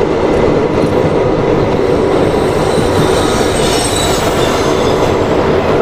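The Tapovan Express crosses the Purna river bridge after leaving Purna Junction in Maharashtra: a loud, continuous close rumble of wheels on the bridge with faint rail squeal and clatter throughout.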